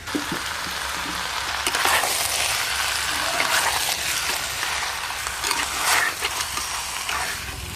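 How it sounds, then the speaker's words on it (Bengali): Ginger-garlic paste sizzles steadily in hot oil in a pan, with a continuous close frying hiss broken by scraping, clicking stirs against the metal. "আদা রসুন বাটা দিয়েও বেশ খানিকক্ষণ ভালো করে নেড়ে নেব"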